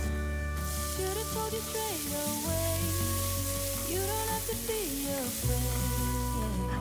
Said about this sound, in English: I heated a mix of butter and olive oil in a pan, added finely chopped garlic and onions